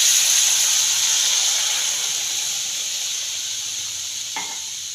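Milk poured into hot caramelized sugar for barfi hisses and sizzles loudly and continuously at close range, slowly easing in intensity, with a faint clink near the end.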